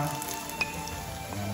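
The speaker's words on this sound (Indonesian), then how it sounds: "A little bit of oil. Bawang, halia," Onion and ginger hitting a little hot oil in a pan, a soft, steady sizzle that stays close and even for a moment with no talk.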